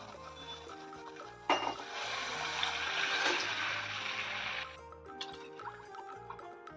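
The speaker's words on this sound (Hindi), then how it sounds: "अभी हम पानी ऐड करेंगे।" Water poured into a pressure cooker over fried onions, a steady hissing splash lasting about three seconds, close, with quieter clinks and background sounds before and after.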